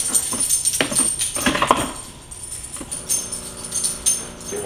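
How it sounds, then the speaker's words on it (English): A dog eats, giving scattered clicks and crunchy bursts at close range, with a bright ringing tone underneath and quieter gaps between mouthfuls. "Coffee while you're watching Dusty eat."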